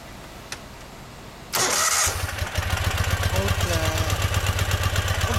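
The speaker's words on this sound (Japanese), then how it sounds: "エンジンの音聞かせてもらえますか？" A 2016 Ural Gear-Up 750cc sidecar motorcycle engine cranks briefly and fires, then settles into a loud, steady, rhythmic idle close by.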